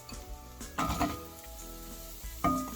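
Shallots sizzle in a pan over a medium flame while a beef Massaman curry is being made, a steady frying crackle broken by louder bursts of stirring and scraping near the start, middle and end.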